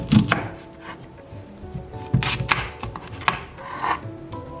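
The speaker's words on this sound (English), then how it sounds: "first we're going to cut off both ends" A knife cuts through the tough ends of green plantains on a cutting board, a few firm close thunks and scraping strokes in an uneven rhythm, with no talking.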